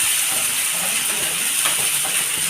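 Onions sizzling in hot oil in a pan for a Telugu turkey berry curry, a steady loud hiss and crackle throughout with no talk.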